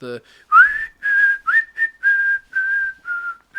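A whistled melody of sustained, sliding notes in short phrases, clear and close, with no talking.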